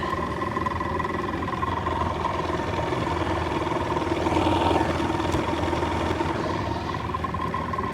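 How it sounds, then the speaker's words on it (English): A 40 hp Johnson two-stroke outboard idles steadily on a 16 ft Bass Tracker in a marina no-wake zone, a constant rough mid-pitched drone with a slight swell near the middle, alone without talk. "Two strokes don't like to idle for a long way out, but that's what has to happen here at this marina."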